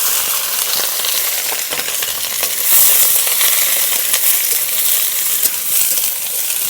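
Chopped onion and capsicum stir-fry in a hot pan for egg fried rice, a dense continuous sizzle with scattered crackles and faint scraping, loud and close.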